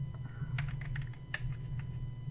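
Computer keyboard keys clatter in a quick irregular run of presses during Space Engineers play, light and near over a steady low hum.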